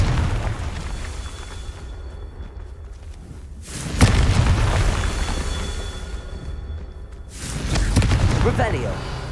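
Confringo fire spell in Hogwarts Legacy going off as repeated booming explosions, one sharp blast in the middle and another rumbling burst near the end, over a continuous rushing noise bed.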